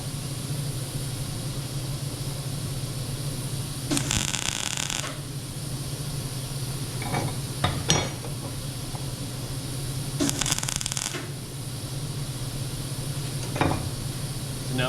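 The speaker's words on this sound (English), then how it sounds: "My T-weld is up against my plate, and I'm just gonna tack weld it on" MIG tack welding a steel T-piece onto a steel plate: two short crackling, sizzling bursts of a few seconds each, separated by steady shop hum and occasional clicks.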